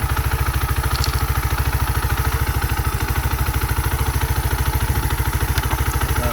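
A 125cc scooter engine idles steadily with a fast, even putter and light rattle, loud and close, running throughout.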